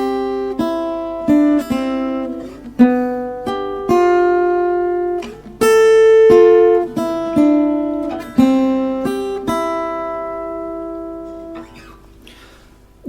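Solo acoustic guitar picked fingerstyle playing "Freight Train", a clear melody ringing over plucked chord notes at a moderate, steady pace, close and fairly loud.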